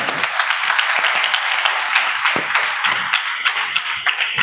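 Loud, dense applause from an audience clapping hard, a continuous wash of hand claps filling the whole stretch with occasional sharper individual claps standing out.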